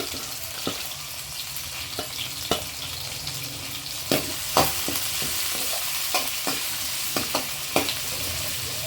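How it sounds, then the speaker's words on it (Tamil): Sliced onions and dried red chillies frying in a pan for chicken chintamani, with a continuous bright sizzle and repeated sharp scraping and tapping strokes of a spoon stirring through the pan. "நல்லா வெங்காயம் வதங்கி வரட்டும்."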